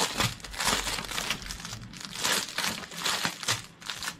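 Crinkly plastic rustling and crunching from small diamond painting bead sachets being handled and snipped open with scissors, in close, irregular bursts over about four seconds with no talking.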